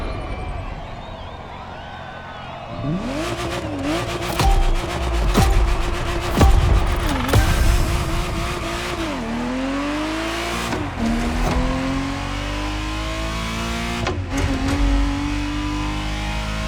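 Ferrari Testarossa engine in The Crew Motorfest racing game, revving hard through rising and falling gear changes, with sharp shift cuts and a loud, sustained close-up exhaust tone.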